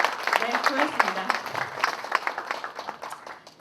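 Audience applause at the second anniversary memorial concert for the late producers Park Hwan-seong and Kim Gwang-il, a steady crowd clapping that rises and fades over a few seconds, with voices audible underneath.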